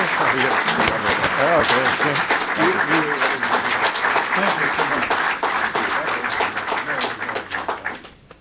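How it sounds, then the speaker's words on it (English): Sustained applause from a large crowd fills the room, steady and loud throughout, fading slightly at the very end. "So help me in giving Lee Hamilton a round of applause"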